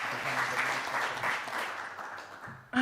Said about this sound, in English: Can we get a big round of applause, everyone, for Muyatwa Sitali?